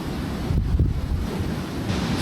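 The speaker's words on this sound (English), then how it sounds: "The wind's howling over the top of us" Strong wind buffets the microphone on a river while out in a fishing kayak, a continuous rumbling roar with gusty swells, close and fairly loud, no voices.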